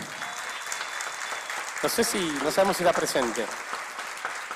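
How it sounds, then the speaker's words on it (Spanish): Audience applause rolls steadily through an awards ceremony at FAN 2024, continuous crowd clapping that carries on under a presenter's voice as he starts speaking partway through. "Para quien pedimos un aplauso"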